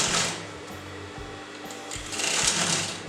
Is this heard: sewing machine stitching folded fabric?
yes